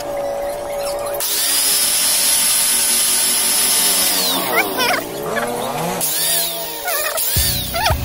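A power drill bores into a Dutch teak slingshot frame with a loud, close whine that bogs and changes pitch as the bit bites into the wood, stops briefly, then returns in a short burst.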